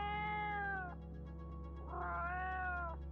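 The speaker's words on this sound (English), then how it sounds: "Is there a Dreamlands cat that you are struggling to speak with?" A cat meows twice, each a drawn-out, clear call, with a short pause between them over a steady low hum.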